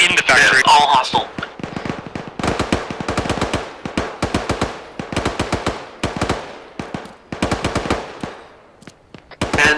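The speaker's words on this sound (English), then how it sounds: "I'm going to start laying down the suppressive." Machine guns lay down suppressive fire in the ArmA 3 video game, long rapid bursts of loud, close shots separated by short gaps, with a voice briefly heard at the start.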